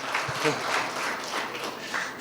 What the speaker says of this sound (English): A round of applause for the gentleman who has a digital twin.